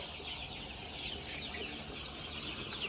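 Chickens of a fast-growing three-breed cross gather at a drinker of pink-tinted water, clucking softly amid a steady wash of flock noise and background hiss.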